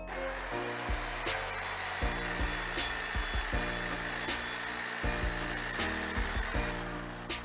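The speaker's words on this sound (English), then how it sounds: "I carve around with a serrated knife" A serrated knife saws through cake with repeated rough strokes and occasional sharp scrapes, close and fairly quiet, with no talking.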